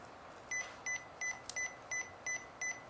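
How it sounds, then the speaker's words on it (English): A recorder chirps an error warning because its tape is not ready, seven short evenly spaced electronic beeps with a small click in the middle, alone over a quiet hiss. "You heard that error message saying tape's not ready"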